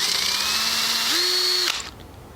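An electric drill spins a wooden dowel to sharpen it into a garden marker point, a steady close whine that rises in pitch under load for about a second before cutting off.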